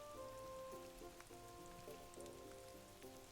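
Gentle rain patters steadily in the video game Animal Crossing: New Horizons, faint and continuous beneath soft, sustained musical tones.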